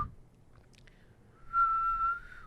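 A person whistles a short tune from The Hunger Games indoors: a few faint pitched notes early on, then a louder sustained whistled note held near the end, with no talking.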